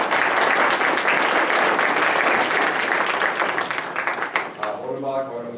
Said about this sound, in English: I think everybody here deserves a round of applause.